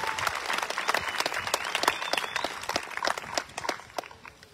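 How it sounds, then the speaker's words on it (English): Steady audience applause at a college commencement ceremony, many hands clapping in a dense, even patter that tapers off slightly toward the end. "Another round of applause for our student speakers, Hannah, Melissa, and David."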